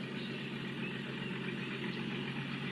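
A bus engine idles nearby at a meditation gathering in Nasik, a continuous low mechanical rumble with no breaks, fairly quiet and steady throughout.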